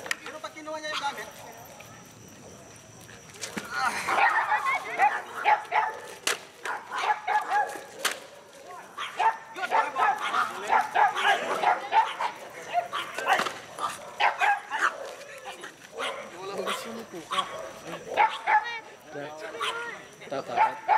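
A dog barks and yips in short sharp bursts near by, with people talking and shuffling sounds throughout.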